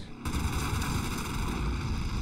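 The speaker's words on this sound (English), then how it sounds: "they're trying to bomb us" Bombing explosions in the WWII strategy game Order of Battle, set in the Battle of Britain: a dense, continuous roar of blasts and rumbling gunfire, loud and unbroken, with no talk over it.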